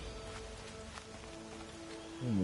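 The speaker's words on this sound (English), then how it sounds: "And the rain's coming down, fucking thunderstorms." Steady rain falling during a thunderstorm in the video game Horizon Zero Dawn, a soft continuous patter under a low rumbling bed, with a rising tone entering at the end.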